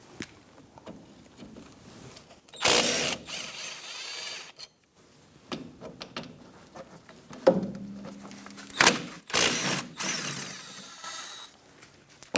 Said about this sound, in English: We're going to use a 14mm socket and take out these caliper slide bolts